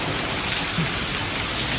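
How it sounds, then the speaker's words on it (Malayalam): Heavy rain pours down steadily in Australia, a dense, even hiss of drops drumming on surfaces throughout, with no voices. "അഡാറ് മഴയാണ്"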